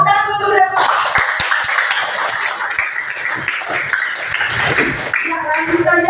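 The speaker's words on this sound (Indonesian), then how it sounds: "Tepuk tangan untuk kita semua." A high-school class in an Indonesian-language lesson applauds together, with several seconds of dense, loud hand clapping filling the room, framed by a voice talking just before and after.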